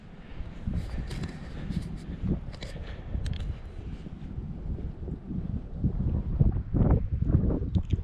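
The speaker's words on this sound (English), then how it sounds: "It is a little bit of a windy day, so I do apologize." Wind buffets a microphone set to a wind-reduction mode on a windy day at a graffiti-covered bridge, a steady low rumbling roar that persists throughout with gusty surges growing stronger toward the end.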